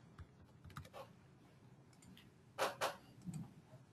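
Keys on a computer keyboard are tapped to enter a corrected value: a few scattered clicks, then a quick loud cluster of keystrokes and a couple more taps, near and alone.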